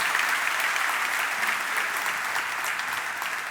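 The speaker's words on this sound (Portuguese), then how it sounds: "Vamos dar uma salva de palmas por esses pastores." A church discipleship meeting audience applauds the pastors, a dense, steady wash of clapping that holds at an even, fairly loud level for the whole stretch with no talk over it.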